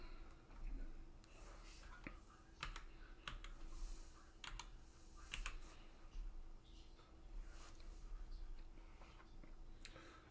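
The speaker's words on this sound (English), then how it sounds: "right now I'm using my arrow keys and my enter keys" Arrow and enter keys clatter on a computer keyboard, a faint, steady run of close, light clicks and taps with short pauses between bursts.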